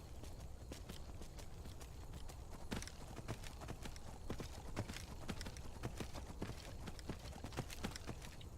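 A horse in Skyrim trots along with a steady, rapid clip-clop of hooves, moderately quiet and continuous, with faint background ambience and no talking.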